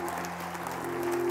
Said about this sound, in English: Keep the clapping first.